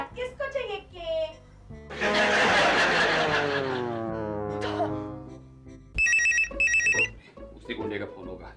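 A telephone in a Hindi TV drama rings in a bright electronic burst near the end, following dramatic music and stings, with a short spoken line early on.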